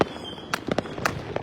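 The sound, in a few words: Saturn missile fireworks exploding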